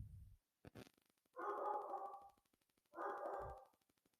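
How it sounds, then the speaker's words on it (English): A pet dog barks indoors in two bursts of rough, fairly distant barking, with steady ticking and faint background noise between them. "so that is Spike, who is pushing his own risk right now by barking while I'm recording videos"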